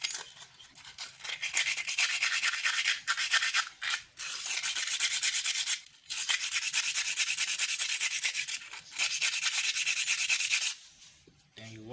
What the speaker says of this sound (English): you can use the sandpaper also to scrape it a little bit